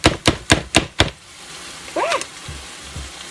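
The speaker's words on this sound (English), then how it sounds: "sorry about the chopping" A food chopper dices a portobello mushroom in five quick, sharp, evenly spaced chops, close and loud. The chopping then stops, leaving faint kitchen noise and a brief higher-pitched squeak.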